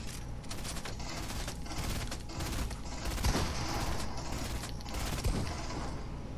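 Shotgun blasts and other gunfire crack in bursts during a Fortnite duos match in the storm, with several sharp, loud shots spread over a few seconds amid mechanical clatter.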